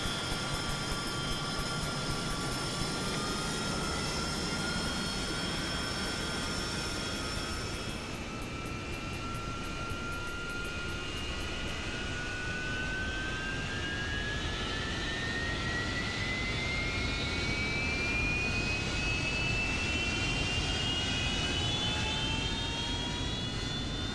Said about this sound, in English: Igniters are firing.